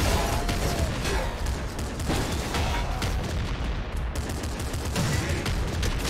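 Dense, loud video game gunfire from Nuclear Throne, a continuous barrage of rapid shots and bursts layered over each other with no pauses, close and harsh throughout.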